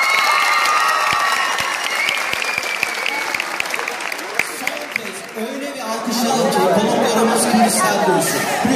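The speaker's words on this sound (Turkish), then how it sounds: "Son kez öyle bir alkışla" Studio audience at a TV8 Turkish entertainment show taping applauds loudly and steadily, a dense wash of clapping that shifts into mixed crowd noise and chatter toward the end.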